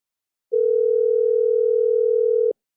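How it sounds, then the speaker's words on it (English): A single steady electronic tone held for about two seconds, clean and unbroken, like a phone line ringing, with silence before and after. "I hope you guys could hear the ringing sound"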